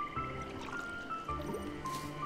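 Water pours onto plants in the video game Stranded Sails, a short wet trickle with soft dripping and squishing over a steady game background, lasting a couple of seconds.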